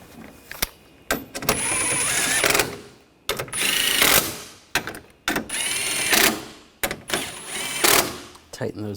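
A power tool tightens front bumper cover bolts on a 2013-2022 Buick Encore 1.4L L4. Four loud, close whirring bursts of about a second each are separated by short pauses and sharp clicks.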